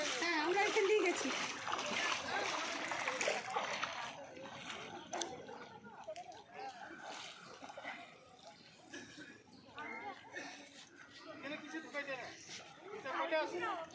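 People bathing in the Ganges splash the water in repeated irregular bursts, with a crowd of voices, including children, chattering around them at a moderate distance.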